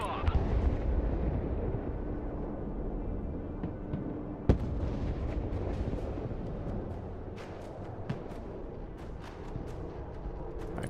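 Artillery fire in a video game, booming in a dense, rumbling wash with one sharp blast near the middle and a few lighter pops afterward, loud and close.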